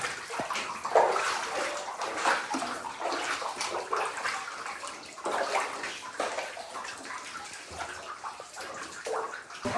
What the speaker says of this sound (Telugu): వాటర్ పడుతున్నాయి మొత్తం తడుస్తున్నా